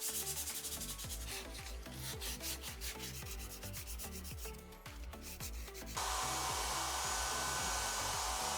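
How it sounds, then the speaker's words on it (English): Dried wood filler on a cabinet sanded smooth, a near, continuous scratchy rubbing in rapid back-and-forth strokes that turns into a steadier, brighter hiss partway through. "once the wood filler dried, I sanded it smooth"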